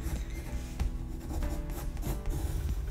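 A pencil sketches on paper, drawing the neck of a portrait in quick, close scratchy strokes that come in short bursts and repeat steadily.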